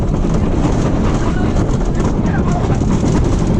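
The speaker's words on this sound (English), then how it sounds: "Oh, this train's got a right rattle." A roller coaster train at Europa Park rattles loudly and continuously along its track, with heavy rumbling and clatter filling the clip and wind buffeting the microphone.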